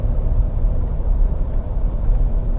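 A 2008 Chevrolet Tahoe Hybrid engine runs while driving, a steady low rumbling drone with road noise and no voices.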